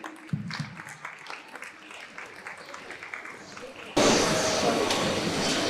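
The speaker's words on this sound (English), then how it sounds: "Let's celebrate the achievements of our remarkable graduates with a huge round of applause" Applause for PYP 5 graduates at a school graduation ceremony: a crowd claps steadily for about four seconds, then the sound abruptly gives way to a louder, continuous wash of noise.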